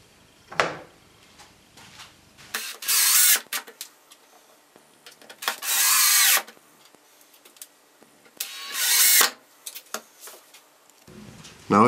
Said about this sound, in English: Now I fasten the lid of the bucket to the cyclone with the remaining disc and several screws.